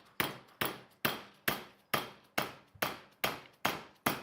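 A hammer taps a metal part clamped in a vise, ten sharp, evenly spaced strikes with a ringing decay after each, close and clear with no voices.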